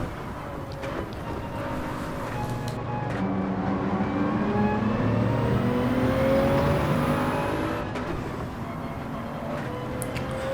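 Race cars in the Gran Turismo 7 video game roar downhill toward Pouhon at Spa, their engine whines rising and sweeping as several cars pass in a dense, continuous drone.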